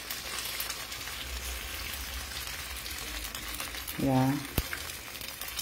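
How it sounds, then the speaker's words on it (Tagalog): Banana turon frying in a pan gives a steady broadband sizzle, with a brief spoken word near the end. "Opo, nagpiprito ako eh."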